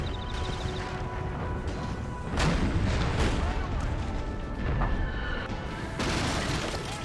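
Artillery batteries fire in the Total War American Civil War video game, heavy cannon booms recurring every second or two over a dense battlefield roar, loud and sustained, with a voice speaking over the top.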